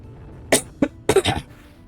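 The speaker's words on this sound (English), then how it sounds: "I am so sorry about my coughing" A person coughs several times in short bursts, one sharp cough, another, then a quick cluster of two or three, close and fairly loud.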